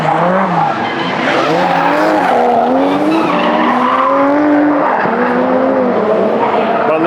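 A car drifts on a Japanese mountain touge road at Gunsai, its tires squealing loudly and continuously for several seconds, the screech wavering in pitch over a strained engine.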